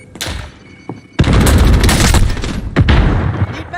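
A frag grenade goes off in the Call of Duty Warzone battle royale game: after a few small pops, a loud booming blast rolls on for over a second, followed by another sharp burst and scattered gunfire-like cracks.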